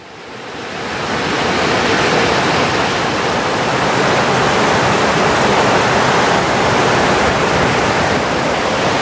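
Beneath a pipe bridge on a wet monsoon path, a large river roars continuously, a loud, broad wash of rushing water that swells in the first seconds and then holds steady, close by and with no voices.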